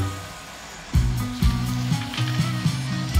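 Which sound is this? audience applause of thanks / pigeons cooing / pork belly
pork belly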